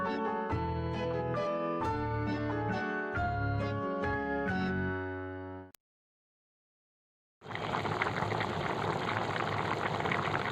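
A pot of curry boils on the stove in a home kitchen, a dense bubbling hiss that starts after a stretch of music and a short silence.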